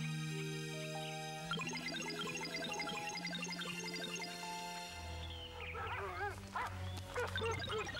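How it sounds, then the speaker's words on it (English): Several cartoon dogs bark and yip amid a bright orchestral music score in an animated series, the barking mixed low and partly buried under the music, with no clear speech. "Where did all these dogs come from?"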